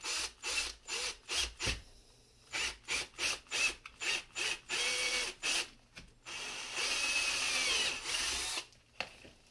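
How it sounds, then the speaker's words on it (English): A drill with a brad bit bores into plastic in a string of short bursts, stopping and starting repeatedly, then holds one longer steady run before cutting off; close and fairly loud. "It's going to drill exactly where I want it to go."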